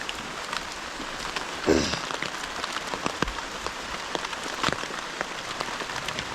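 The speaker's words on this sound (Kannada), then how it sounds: "ತುಂಬ ಮಳೆ ಸ್ನೇಹಿತರೆ ನಿನ್ನೆಯಿಂದ." Steady rain patters on a surface, with scattered louder drops and a brief thump rising above the constant hiss.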